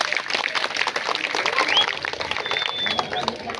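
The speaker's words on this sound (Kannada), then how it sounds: "ಎಲ್ಲ ಜೋರಾಗಿ ಒಂದು ಚಪ್ಪಾಳೆ ಕೊಡಿ ಅವ್ರಿಗೆ." Audience applause at a drama performance and felicitation event, a crowd clapping steadily under a voice speaking over it.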